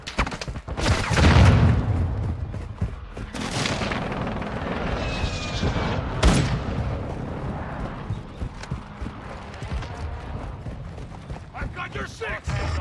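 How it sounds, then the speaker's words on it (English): Precision airstrike explosions in a Call of Duty match: booming blasts and crackling bursts rolling over continuous battle noise, with voices talking throughout. "Enemy precision airstrike."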